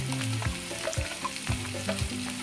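Onion frying in a pan for mung dal dosa, a steady close sizzle with stirring scrapes running throughout, no voices.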